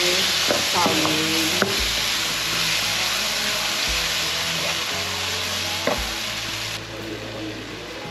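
Tomatoes and eggs stir-fry in a wok with seasonings, a steady close sizzle broken by repeated scraping strokes of a spatula against the pan, with no talk.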